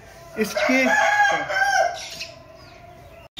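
An aseel rooster crows at a Multan poultry market, one long, loud, drawn-out call close by, with other fowl clucking faintly in the background.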